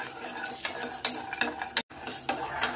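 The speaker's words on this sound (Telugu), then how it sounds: "లైట్ గా వేయించుకుందాం" Peeled garlic being lightly dry-roasted and stirred in a pan, giving a steady close-up scraping and sizzling with repeated stirring strokes, one brief silent break, and no talking.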